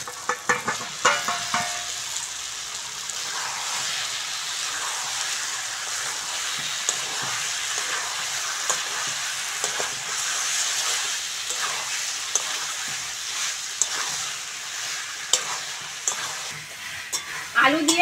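Fried potatoes are stirred into a spice masala for aloo dum, a loud continuous sizzle under frequent scraping spoon strokes and light pan knocks that grow busier near the end.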